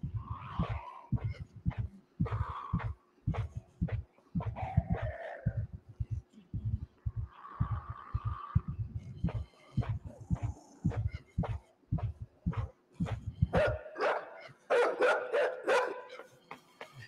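A dog barks over and over in the video game INSIDE, with sharp, rhythmic barks, some yips and whimpers, ending in a rapid, louder flurry. It sounds close and stands alone with no talk.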